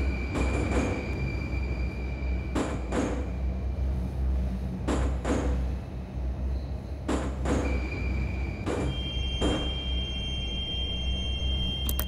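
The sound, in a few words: Moscow Metro train arriving at station, from a video game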